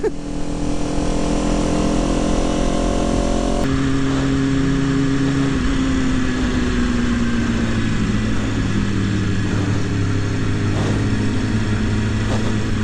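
A Kawasaki Ninja motorcycle, comparing a Ninja 400 and 636, hums steadily at close range with a smooth mid-pitched engine drone, the tone shifting partway through as revs change, with wind rush throughout.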